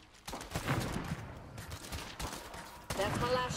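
Rapid gunfire in State of Decay 2, a quick run of close shots with short pauses between bursts, mixed with talking.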